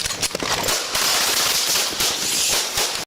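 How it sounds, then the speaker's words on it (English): Police gunfire as a full magazine is dumped: a dense burst of rapid, loud, sharp shots that runs for about three seconds before stopping abruptly. "Yeah, mag dumped that full,"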